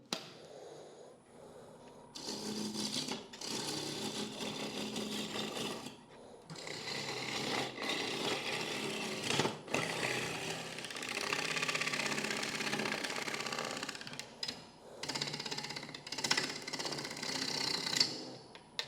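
Wood lathe on a natural edge turning, a tool cutting wood away to form a tenon, in bursts of rough scraping and rumbling separated by short pauses across nearly twenty seconds.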